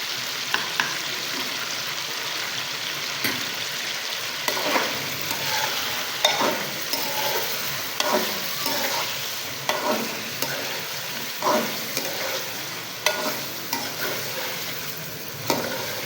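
Chicken in garlic ginger paste sizzles in a pan for a karela gosht curry, with a steady frying hiss broken by regular scraping stirs of a spoon, close and alone with no talk.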